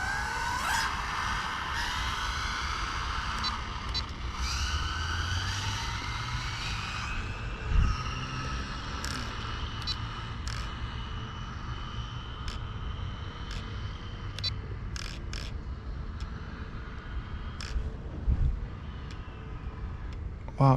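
Rlaarlo AK-917 RC car on a 4S setup with a TP 3770kv motor making a speed run, a steady electric whine and rushing drive noise heard from a distance over constant outdoor background, with a few sharp clicks.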